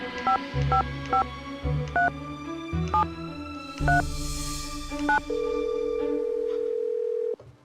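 A sequence of short touch-tone beeps dialed on a phone in a Nancy Drew game, about seven evenly spaced presses, then a sustained ringing tone, close and clear with no voices.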